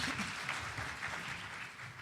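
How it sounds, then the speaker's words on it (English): Audience at a public speaking event applauding steadily, a soft, even patter of many hands clapping that holds for a couple of seconds, heard from some distance. "Please give him a round of applause."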